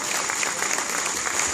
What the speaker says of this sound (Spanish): Adelante, un fuerte aplauso